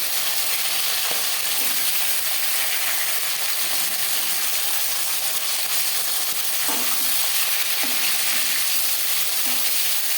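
Fish sizzles steadily in hot oil in a pan for a home-style fish curry with potato and green banana, a constant loud hiss with occasional faint clinks and stirring taps, no voices.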